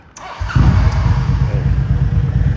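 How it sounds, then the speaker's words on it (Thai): An Aprilia SRV850 ABS V-twin motorcycle from 2015 starts up and settles into a loud, close, steady idle with a lumpy, throbbing low rumble, heard alone without talk. "เดี๋ยวสตาร์ทให้ฟังเสียงเครื่องยนต์กัน"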